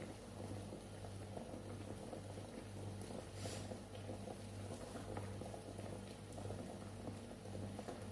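Eggs boiling in a pot of salted water, a steady close bubbling and simmering that runs on without a break, with a low hum underneath.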